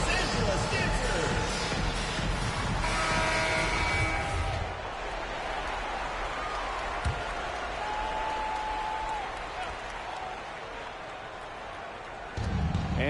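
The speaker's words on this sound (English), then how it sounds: "Let's give some applause for your Los Angeles Dancers." Crowd applause for the Los Angeles dancers during a timeout in an NBA 2K23 basketball game, a steady wash of arena cheering and clapping that runs throughout, with a commentator's voice heard over it and the level dipping partway through.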